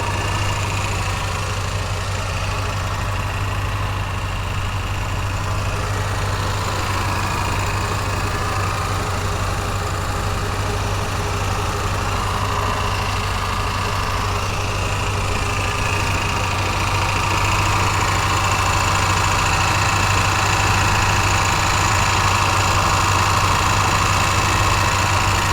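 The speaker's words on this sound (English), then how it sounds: "So here's the motor. Runs really smooth, sounds really good." The 7.5-liter 460 V8 of a 1990 Ford F-350 XLT Lariat idles steadily and close by, a low, even rumble with a constant hum that holds unchanged for the whole stretch, no voices over it.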